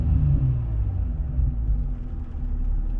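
Low, steady engine rumble from a 2003-2007 Infiniti G35 fitted with a 75mm throttle body as the throttle is blipped again, a brief swell early on before settling back to idle, close and without voices.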